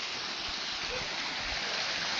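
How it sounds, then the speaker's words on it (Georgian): A village creek flows in a constant, dense hiss of running water, close and even in level, with no voices over it. "ეს არის ღელე."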